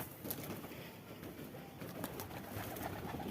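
Wild rock pigeons gathering to feed at a house give soft, faint cooing against a steady, noisy background, with no talking.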